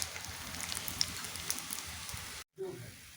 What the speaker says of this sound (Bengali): দেখুন হয়ে গেছে এবার নামিয়ে নেব একইভাবে বাকি সব পিঠেগুলো ভেজে নেবো